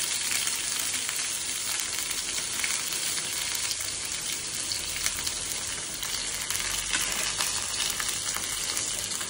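Curry leaves and green chili sizzle in hot frying oil for an egg and moringa flower stir-fry, giving a loud, steady, dense crackle that never lets up and has no voices over it.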